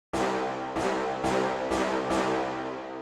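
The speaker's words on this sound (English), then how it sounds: "the next sound we got is just a brass hit" Brass hit sample from a beat production, five bright, loud staccato stabs repeating at an even pace, each with a sharp attack and a short ringing decay, with no voices.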